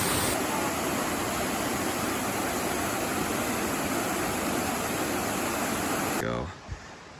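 A waterfall in Connecticut near the Massachusetts border roars as a steady, loud broadband rush close by, cutting off abruptly near the end.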